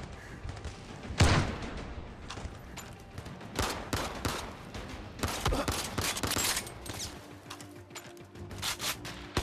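Shotgun fire in the VR shooter Zero Caliber: Reloaded on Oculus Quest 2 cracks out in scattered bursts, with a sharp blast near the start and further shots mixed with thumps and rubbing handling noise.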